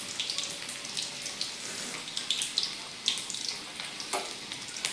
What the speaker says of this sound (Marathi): जिरी थोडी तडतडली की जो आपण लसूण घेतलेला आहे तो घालूयात